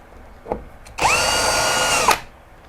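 A power drill fitted with an X-Line20 2-in-1 drill and driver bit bores into wood, giving a sustained high whine of about one second that rises and falls at the start and end. A short tap comes just before it.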